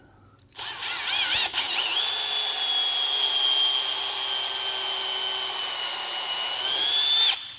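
A Milwaukee countersink bit sized for a number 10 screw bores into wood with a steady, high-pitched power drill whine, spinning up briefly and then holding one continuous run of about seven seconds before stopping.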